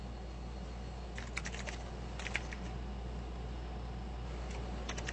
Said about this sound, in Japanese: キーボードで数字を変える